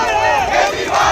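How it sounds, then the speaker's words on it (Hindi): Protesters outside a state legislative assembly shout slogans together in a dense, continuous crowd roar, loud and close with no pauses. "विधानसभा के बाहर सड़क पर बैठे वीरेंद्र सचदेवा ने भी कार्यकर्ताओं के साथ जमकर नारेबाजी की।"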